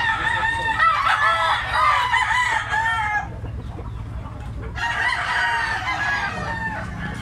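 A Possum Black Leg gamecock rooster crows twice, loud and close, the first call longer and the second following after a short pause, with faint clucking and low background noise.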